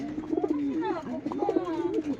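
Pigeons coo in low, rolling, repeated phrases, close by and fairly steady, with a few overlapping calls throughout.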